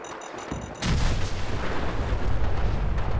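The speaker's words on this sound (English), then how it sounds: "that was a delayed power armor explosion there" A delayed power armor explosion in Fallout 4 with the Sim Settlements 2 mod: a sudden heavy blast breaks out of quieter game ambience, then a loud, dense roar of fire and rumble holds on without fading.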